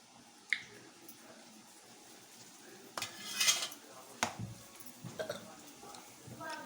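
Day-old sun-dried cooked rice dropped through a sieve into very hot oil for a rice mixture snack, giving soft sizzling crackle with a few sharper clinks of a utensil against the pan, close and moderately quiet.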